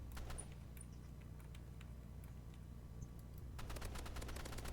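Game gunfire in Roblox Rivals, faint rapid bursts of short cracks scattered through the clip and growing denser at the end, with no talking.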